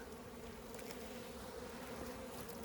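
Honeybees hum in a steady, continuous drone during a fall hive inspection, the buzzing close and even throughout with no voices.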